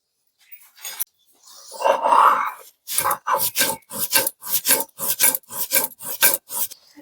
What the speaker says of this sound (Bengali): তো চলো পোস্তগুলো বেটে নিয়ে এবার সঙ্গে দিয়ে দেবো একটা কাঁচা লঙ্কা।